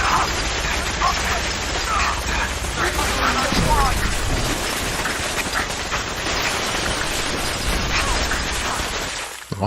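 Heavy gunfire in the video game Fallout 4, a dense, continuous barrage of shots and clatter filling nearly ten seconds, loud and close, with a player's voice talking over the shooting at times.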